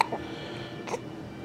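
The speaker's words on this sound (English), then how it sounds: "has the hiccups again" An infant boy's hiccups, two brief soft catches about a second apart, heard close in a quiet indoor room while he rests on a parent's legs, with no talking.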